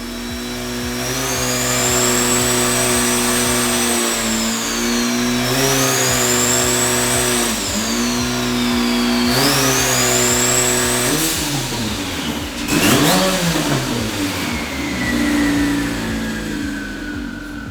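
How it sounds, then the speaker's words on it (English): A rebuilt turbocharged car engine running through its break-in, revving up and down repeatedly in loud, close rising and falling sweeps with a steady mechanical drone and a high turbo whine, no talking. "We need to let this engine come up to temp for quite some time."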